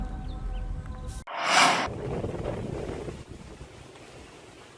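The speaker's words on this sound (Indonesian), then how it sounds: "Angin kencang dan gelombang tinggi di perairan Selat Lombok" Gusty wind buffets the microphone with a loud rushing burst, over a constant wash of high sea waves in the Lombok Strait; no voices are heard.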